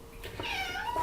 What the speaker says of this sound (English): I got a squeaky little kitty over here.